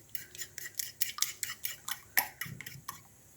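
A utensil clinks repeatedly against a bowl in a steady, quick rhythm, about a dozen light taps of gently stirring raw eggs, close and fairly quiet.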